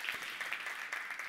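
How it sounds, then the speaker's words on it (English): Audience applause at a keynote speech honoring military service members, steady dense clapping filling the short moment at a moderate, somewhat distant level with no talk over it. "Please raise your hand high and proud. Yes, please, a round of applause."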